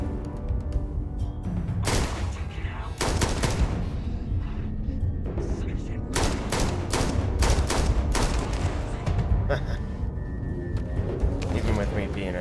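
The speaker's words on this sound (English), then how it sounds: "This gun is friggin' phenomenal." Gunfire from a gun in the video game Starfield rings out in repeated sharp bursts and rapid volleys across the stretch, loud and close, with someone talking over the shots.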